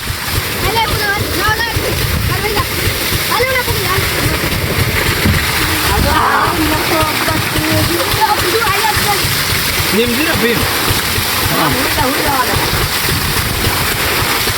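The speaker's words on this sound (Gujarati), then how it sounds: "અરે સાગર પક્કાભાઈ માથે પાણી જવા દે." Water pours over a person's head during a bath outdoors at a farm, a loud, steady rushing gush lasting throughout, with people shouting and cheering over it.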